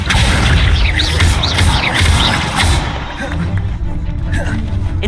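An Accio summoning spell is cast in Hogwarts Legacy, a loud burst of whooshing magical effects with swirling tones and thuds over the first few seconds, then settling into quieter ambience.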